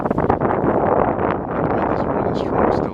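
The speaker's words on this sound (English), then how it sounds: "wind is really strong still" Strong gusting wind buffets the microphone on a downtown Montreal street, a continuous loud rumbling roar that swells and eases throughout.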